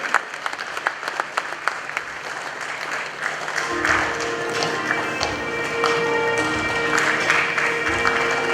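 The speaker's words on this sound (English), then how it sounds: "Can we keep the applause going" Sustained audience applause fills an awards-ceremony hall at the 29th GJA Media Awards, dense clapping at steady strength for several seconds with a faint murmur of crowd voices underneath.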